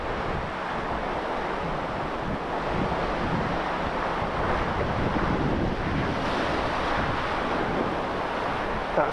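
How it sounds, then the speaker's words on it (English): Sea swell surging and breaking against the rocks at Pulpit Rock, Portland, Dorset, a steady close roar of surf with wind buffeting the microphone, continuous for the whole stretch with no voices. "That swell's really getting up, isn't it?"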